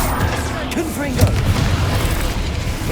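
Confringo fire spell blast in the Hogwarts Legacy video game, a deep booming burst amid ongoing combat noise, with a voiced shout layered over the low rumble.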